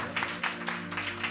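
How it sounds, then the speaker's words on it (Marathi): A church congregation claps loudly in a quick, even rhythm, with regular bursts roughly four times per second. "प्रभूच्या गौरवासाठी जरा जोरदार टाळ्या आम्ही वाजूयात"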